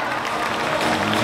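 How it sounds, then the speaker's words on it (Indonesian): An audience at the DBL Indonesia All-Star 2024 camp event claps together, a dense and loud burst of applause that holds steady over the whole short stretch. "Sekali lagi tepuk tangan untuk Kopi Kute, DBL Indonesia All-Star 2024."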